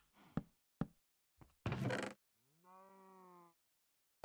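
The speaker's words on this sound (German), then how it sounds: "Einfach schon viel zu viele Kühe hier drin." Minecraft cows: a few sharp knocks and a crunchy thud, followed by one clear, drawn-out synthetic moo, close and alone against silence.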